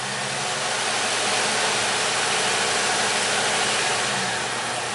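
A Chevy Equinox with low power and cam-timing fault codes idles steadily, its engine a constant broadband hum with no speech throughout.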